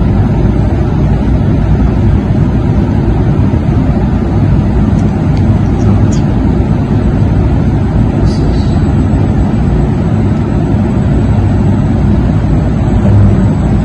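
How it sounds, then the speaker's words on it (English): An electric-vehicle induction motor under open-loop potentiometer control, spinning up as its voltage is raised: a loud, steady, broadband whirring rumble that holds constant throughout, with no voices. "The motor that starts to rotate, and I'm increasing the voltage now using the potentiometer."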